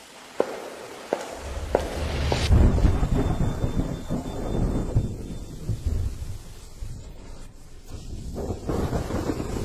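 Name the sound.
heavy rain with thunder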